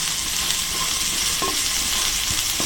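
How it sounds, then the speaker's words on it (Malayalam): Finely chopped carrot and vegetables sizzle steadily in a pan for white sauce pasta, with a constant close frying hiss and a few soft stirring scrapes. "ഇനി ഇത് നമുക്കൊന്ന് വഴറ്റിയെടുക്കാം."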